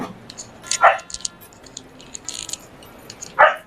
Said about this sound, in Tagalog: May aso si tatay